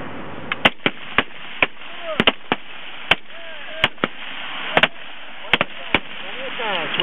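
Rifle shots crack out at a highpower shooting match, a dozen or so sharp reports spaced irregularly, some near and some farther down the firing line, with voices talking in between.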